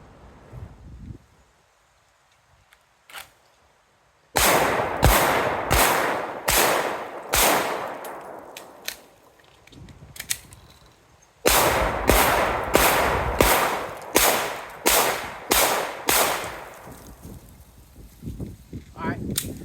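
A shooter fires two rapid strings of pistol shots while moving around barrels, each string about eight to nine sharp, loud cracks with echoing tails, separated by a quiet pause and rustling movement.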